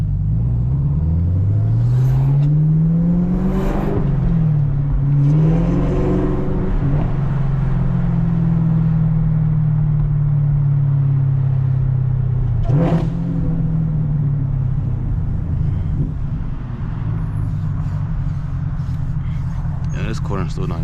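A Chevrolet Camaro ZL1 with a manual gearbox drives through Chicago streets, its deep engine rising and falling through repeated revving pulls and gear changes, loud and close, while someone talks over it.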